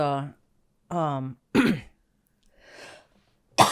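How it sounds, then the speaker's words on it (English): A few throaty coughs and a throat clear from secondhand cannabis smoke, in short separate bursts, close and fairly loud, with brief pauses between them. "Secondhand cannabis cough."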